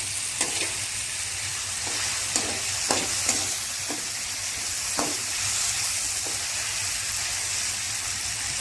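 Uggani, the Rayalaseema puffed-rice dish, fries in a pan with a steady sizzle, broken by a handful of sharp scraping stirs spaced irregularly through the clip; close and moderately loud, with no voices.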